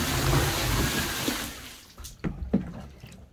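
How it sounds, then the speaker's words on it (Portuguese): Water poured out of a container, a broad gushing splash for about a second and a half that fades into scattered drips and light handling knocks. "Então eu vou jogar fora essa água aqui."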